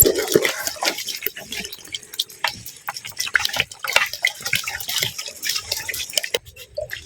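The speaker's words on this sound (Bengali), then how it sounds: "এখন আমরা পানি দিয়ে দেবো এগুলোর মধ্যে।" Cold water poured over fried rice in a pot while making chicken biryani: an uneven splashing and trickling mixed with light clinks and stirring of utensils, fairly close, with intermittent talking over it.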